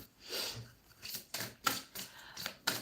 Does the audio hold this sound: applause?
no